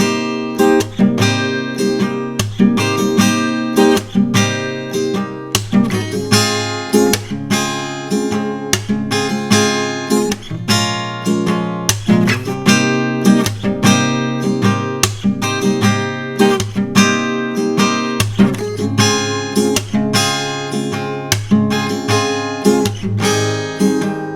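Steady rhythmic acoustic guitar strumming with regular muted chucks between strokes, loud and close, continuing without any talking.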